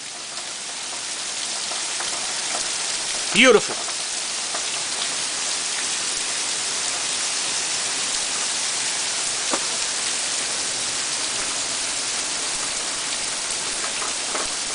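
Steady rain falls outdoors in Winnipeg, an even, dense hiss of drops spread across the whole stretch, with a brief spoken word early on and a faint click later.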